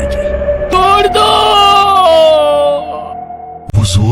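A man's loud, pained scream rises and wavers for about three seconds, then breaks off, followed by a short harsh burst; a close, strained horror-story cry with no speech.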